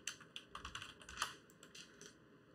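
Command-click keyboard and mouse shortcut on a computer running Logic, heard as a quiet, close series of crisp key and button clicks in an irregular rhythm with no voices.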